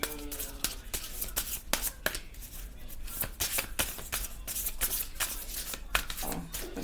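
Tarot cards are shuffled over and over, with quick riffling bursts and crisp snaps repeating in an uneven rhythm, close and clear.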